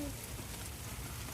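Soft, steady patter of rain on a surface, a continuous hiss with no voices heard.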